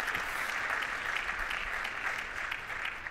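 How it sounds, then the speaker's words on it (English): Steady, faint applause from an awards ceremony audience as a speaker is welcomed, a dense even patter of many hands clapping throughout. "Big round of applause for Fabian,"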